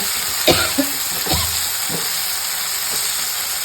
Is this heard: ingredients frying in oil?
yes